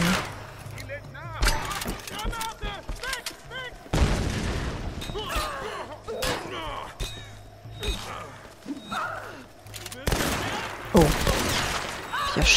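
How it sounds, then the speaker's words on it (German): Scattered gunshots in the video game Tomb Raider, sharp bursts and cracks at irregular intervals amid game effects, with a person talking intermittently between the shots. "schön daneben geschossen"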